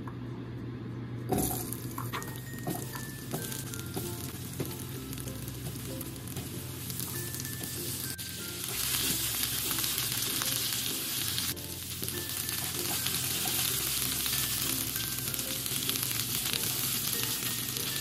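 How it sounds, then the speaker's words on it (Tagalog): Potatoes and carrots fry in hot cooking oil, making a steady crackling sizzle that grows louder and denser partway through, with occasional clinks of a utensil. No one speaks. "Prituhin na natin yung ating patatas at saka yung ating carrots"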